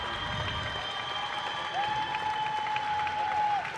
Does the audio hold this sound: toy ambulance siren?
no